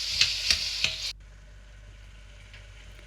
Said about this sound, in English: Add chopped tomatoes and stir until it is cooked well.